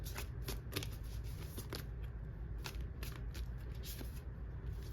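Tarot cards being shuffled by hand: a steady, soft riffling and flicking of cards goes on throughout, close but quiet, with no talking.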